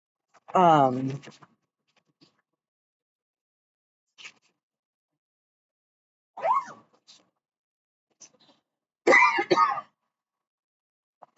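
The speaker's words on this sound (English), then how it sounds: "I also have this cough back again." A person with a recurring cough coughs and clears their throat in three short, separate bursts, close and fairly loud, with quiet pauses between them.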